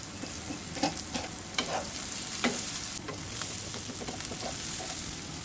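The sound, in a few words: onions frying with garam masala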